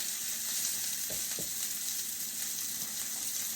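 Beef stew meat sears in a pan with a steady, loud, close sizzle and crackle throughout, a couple of faint knocks heard under the frying and no talking.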